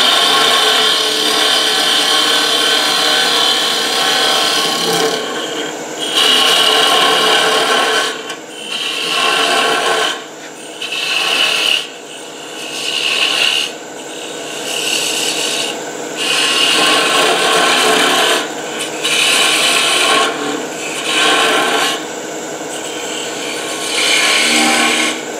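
A woodturning tool cuts a spinning wooden saltshaker on a lathe, giving a loud, rough scraping hiss in repeated passes broken by brief pauses, with no one speaking.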